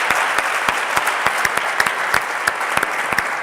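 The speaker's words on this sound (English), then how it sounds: "Big round of applause for Rakan." A gala audience gives a big round of applause for a presenter named Rakan: steady, loud crowd clapping with crisp individual claps punching through at a quick, regular pace, no speech over it.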